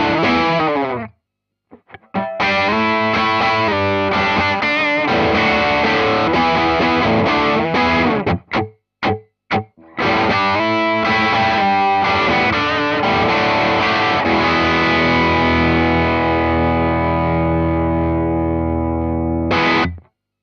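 A chorus riff played slowed down on a rare Number 2 signature Les Paul, heavily distorted with chorus effect: chugging chords, a few sharp stops and stabs, then a long sustained chord fading out.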